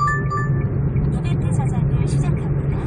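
A 2012 Kia Morning fitted with aftermarket intake and exhaust parts driving, its low engine and road rumble steady inside the cabin under a voice.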